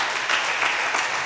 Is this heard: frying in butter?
no